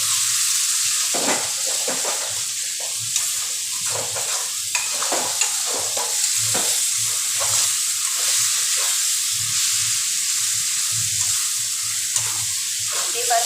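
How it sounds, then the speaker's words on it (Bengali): Spice paste fries in hot oil in a pan while a spatula scrapes and stirs it, a loud continuous sizzle with repeated close stirring knocks throughout. "মশলাটা খুব সুন্দর ভাজা হয়ে এসছে।"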